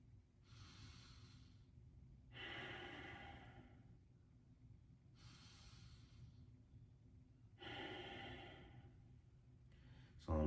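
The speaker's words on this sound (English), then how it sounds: "you will most likely be breathing in this manner" Slow, deep abdominal breathing, practiced as an energy-building technique: four long breaths, each an audible rushing inhale and exhale lasting about two seconds, close and quiet with pauses between.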